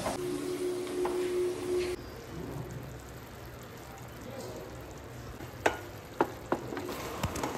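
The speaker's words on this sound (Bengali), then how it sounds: "পাতলা পাতলা করে কেটে হলুদ লবণ দিয়ে একটু মেখে রেখেছিলাম, এবার ভেজে নিলাম।" Thinly sliced potatoes coated in turmeric and salt fry in oil in a pan, giving a steady close sizzle with a few sharp pops and clinks near the end, and no talking.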